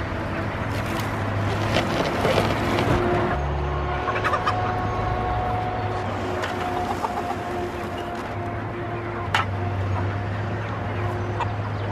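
Chickens in a chicken tractor on a farm cluck and call softly in the outdoor background alongside a steady low mechanical hum, with occasional clearer clucks.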